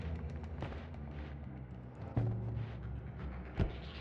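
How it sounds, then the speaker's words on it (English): Two large explosions in the video game Noita, each a deep low boom with a short tail, one near the middle and a second shorter one near the end, standing out from a steady busy rumble of game sounds. "That is a large explosion"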